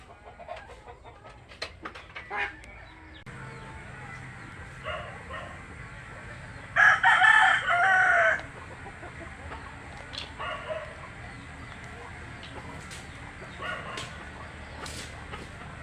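Chickens cluck softly in an outdoor yard, with one louder crow-like call standing out midway; scattered faint clucks and taps fill the rest.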